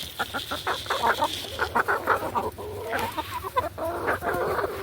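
A flock of about fourteen chickens clucks busily while being fed in a garden. Short, overlapping clucks and murmurs come close by in an irregular chatter, with no one speaking.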